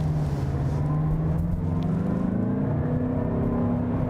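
A 2024 Mazda CX-5 Signature AWD with a turbocharged 2.5-liter inline four-cylinder accelerating onto a highway, a steady engine drone rising gradually in pitch as it pulls, heard from inside the cabin without talk.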